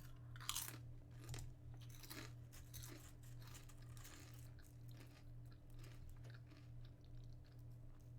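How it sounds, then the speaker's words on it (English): Potato chips crunched and chewed close to the mic, a run of crisp bites and chewing crackles at an uneven pace, with no talking. "You guys enjoy the sound of me crunching on chips?"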